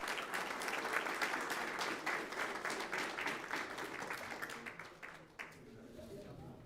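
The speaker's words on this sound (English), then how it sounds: "Once again, let's give them a round of applause." Dense clapping from an audience at a school board meeting honoring students, sustained and fairly loud before thinning out toward the end, with some voices mixed in.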